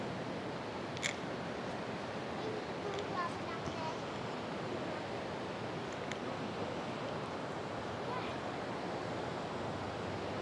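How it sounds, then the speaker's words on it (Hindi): Steady wash of sea waves at Reis Magos Fort in Goa, a continuous broadband surf roar filling the whole stretch at an even level with no distinct breaks, a few faint clicks on top and no clear talk. "और देखिए समुद्र की आवाज़ कितनी सुंदर सुनाई दे रही है"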